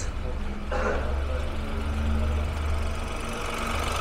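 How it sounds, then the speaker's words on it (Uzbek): A Honda Crider 1.0 turbo car engine idles steadily with a low, rumbling hum and slight vibration, close by and continuous throughout. "buni o'chirib qo'yamiz ishlashini ko'ramiz bitta motorini ishlashini ko'ramiz"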